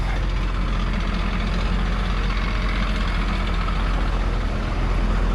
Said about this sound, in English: I'll pop out now and let you listen to the motor